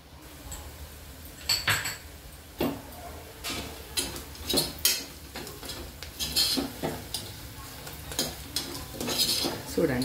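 Mutton gravy spices with turmeric frying in a pan, with a soft sizzle under repeated sharp metallic clinks and scrapes of a spoon stirring against the pan at an uneven rhythm.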